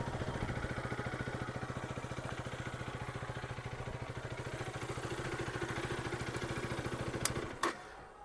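A 2026 KTM Duke 250 motorcycle idles with a steady low exhaust thrum and fast, even pulses, close and loud throughout, before a couple of sharp clicks near the end.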